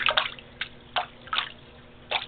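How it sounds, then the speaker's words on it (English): Water splashing and dripping as a pet named Castiel is bathed in a tub, a few short soft splashes spaced irregularly, close by and fairly quiet. "Throwing water everywhere."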